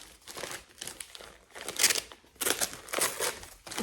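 A gift-wrapped parcel holding a novel is unwrapped close up, with paper crinkling and tearing in uneven bursts that grow louder near the end, and no talk.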